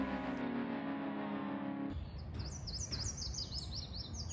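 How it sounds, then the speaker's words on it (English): A male yellow warbler singing a quick series of bright, sweet chirping notes, faint and somewhat distant, that starts partway through after a steady tonal hum and continues in a rapid rhythm to the end. "It's a yellow warbler."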